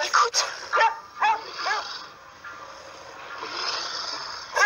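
Several short barks and yips from a dog, spaced irregularly at moderate loudness over a steady synthetic background hum.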